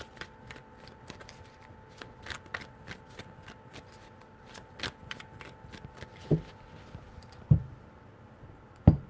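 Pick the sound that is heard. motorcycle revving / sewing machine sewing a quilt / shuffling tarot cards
shuffling tarot cards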